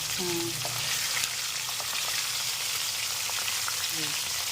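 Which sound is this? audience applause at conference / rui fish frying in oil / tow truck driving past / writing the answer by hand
rui fish frying in oil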